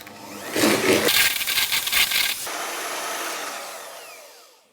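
An electric mixer whirs loudly while whipping lemon meringue until glossy, a steady high-pitched drone with a louder, choppier stretch before settling into a smoother hum that fades out.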